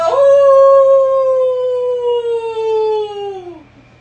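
Children imitate a wolf howl together in one long, loud sustained vocal howl of about three and a half seconds that slowly falls in pitch at the end, with no other sound around it.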